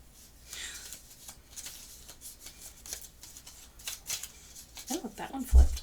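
A deck of oracle cards is shuffled by hand, with soft papery riffles and flicks repeating irregularly, some scraping louder than others, and a voice talking near the end.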